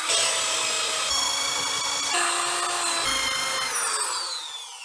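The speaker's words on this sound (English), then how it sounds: "what we have to do is clean the wheel hub. The big tools." A power tool grinds rust off the wheel hub of a BMW E46 330Ci with a loud, continuous, high-pitched whine that shifts pitch as pressure changes, then winds down near the end. Heard up close with no speech.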